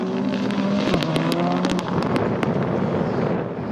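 A rally car on soft slick tyres runs a greasy stage in a Northern Ireland rally championship round, its engine note rising loud and close, then breaking into rougher noise as it passes.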